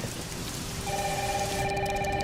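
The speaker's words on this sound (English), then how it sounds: "It's really coming down hard." Heavy rain pours steadily as a dense, continuous hiss, with a telephone beginning to ring faintly beneath it.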